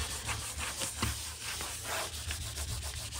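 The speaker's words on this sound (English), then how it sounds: "So now I have a bit of soap. And I'm just going to rub it." A bar of soap is rubbed in soft, repeated scrubbing strokes, faint and close, with an irregular back-and-forth rhythm.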